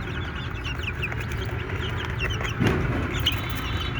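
Twelve-day-old chickens cluck and peep softly and repeatedly over a constant low background hum, fairly close by.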